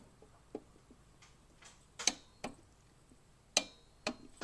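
A torque wrench clicks sharply on the fuel filter of a 2010 6.7 Cummins diesel, giving several crisp, close ticks spaced irregularly in an otherwise quiet space.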